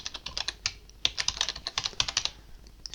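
Quick, light clicks of typing on a computer keyboard, a close, fairly quiet run of irregular keystrokes with no talking.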